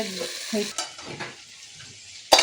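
Drumstick, potato and pumpkin bori sautéing in a pan, giving a steady close sizzle with soft stirring scrapes, and a sharp burst of hissing near the end.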